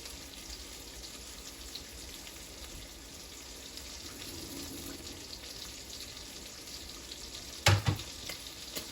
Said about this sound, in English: So we're gonna let that continue to fry up